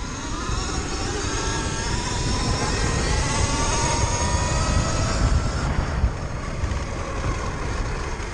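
Sur-Ron Light Bee 72V electric dirt bike with a BAC 4000 controller accelerating hard under throttle, a steady loud whine with rising motor tones over rushing wind and road noise, no talking.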